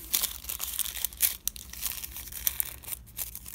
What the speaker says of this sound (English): I'm just going to fold it up